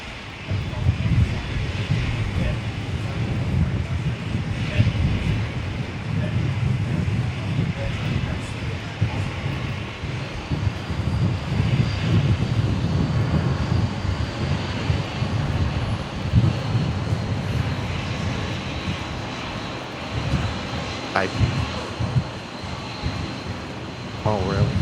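A Fokker 70 airliner heads for departure at Brisbane Airport, a steady jet engine rumble with wind buffeting the microphone and voices talking intermittently over it.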